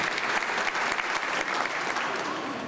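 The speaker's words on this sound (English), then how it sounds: "Let's give those sponsors an applause for making this a possible event." Sustained crowd applause at a convention and visitors bureau annual meeting, steady clapping from a large audience throughout.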